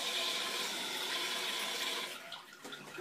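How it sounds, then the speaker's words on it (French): A toilet cistern refills with water after its float valve is replaced: a steady, close rush of running water that fills the whole clip and thins out a little toward the end, with no talking. "À partir de là, on peut remettre les toilettes en eau."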